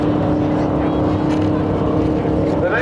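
Modified car engine idling down after hard running at a car event, a steady low rumbling drone with a constant hum, close and loud throughout.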